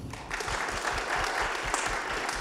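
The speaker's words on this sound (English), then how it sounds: "You can clap for Diane" An audience at a civics education event breaks into sustained applause for historian Diane Ravitch, a dense, steady wash of many hands clapping that fills the room for a couple of seconds.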